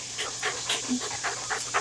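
Puppies panting and snuffling nearby on a homestead during morning chores, a steady breathy rhythm with small yelps and whimpers mixed in.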